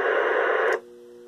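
An ICOM IC-2100H radio, just repaired, gives a steady burst of received hiss and audio for under a second and then cuts off abruptly to quiet, leaving only a faint low hum.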